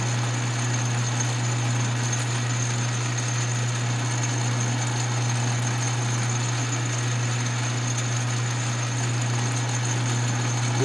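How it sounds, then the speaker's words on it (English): Drill press spindle running while drilling a hole, a steady motor hum with a strong constant tone and a faint mechanical whir from the bit as oil drips onto it, continuous and close without talking. "I'll turn the spindle on, and I'll open up that valve and get a couple drops of oil on that drill bit."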